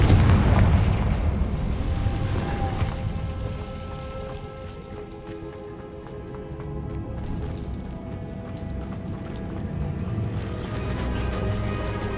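A Confringo explosion spell in the Hogwarts Legacy video game, heard as a loud, deep boom at the start that decays into a long rumbling tail under ambient game music.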